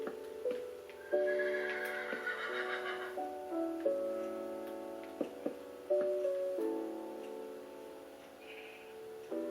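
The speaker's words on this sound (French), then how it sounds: "la jambière découvrit qu'un poney l'attendait, impatient d'être dompté, domestiqué" A Minecraft pony gives repeated whinnying neighs over clip-clop hoof sounds in a Wii U survival game, loud and close against background game music, with no speech.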